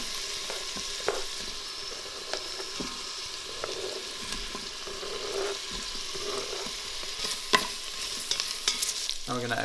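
Onions and Hungarian sausage sizzle in a pot, frying steadily as a spoon stirs them, with scattered clinks and scrapes against the pot close by and no talking.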